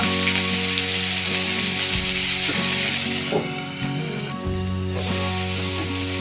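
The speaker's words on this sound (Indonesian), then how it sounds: "kita siapkan ikan asinnya, kemudian kita goreng dulu" Salted fish frying in hot oil, a steady dense sizzle and crackle running loud and continuous, with a few brief pops and stirring clatters partway through; no one speaks.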